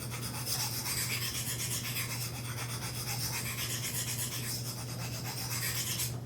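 A blade is sharpened by hand, a continuous gritty rasping of steel on an abrasive stone in close, steady strokes over a low constant hum, with no voices.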